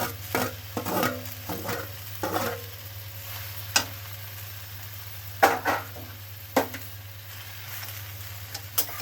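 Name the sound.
stirring fried vegetables and greens in pan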